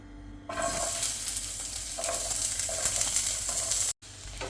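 Sliced onions sizzling as they fry in a pan for egg Maggi, a loud, steady close hiss that starts abruptly and carries on with light stirring scrapes before cutting off briefly near the end.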